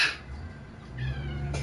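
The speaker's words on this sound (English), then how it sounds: "You say meow." A cat meows close by, one short call at the start and another drawn-out cry near the end, over a low hum indoors.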